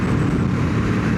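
A Ducati 916 motorcycle engine gives a steady, loud low rumble that holds without pause, close up.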